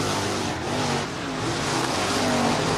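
Race car engine roaring into a turn at Northwest Florida Speedway, a dense continuous rumble that rises and falls a little, loud and steady throughout.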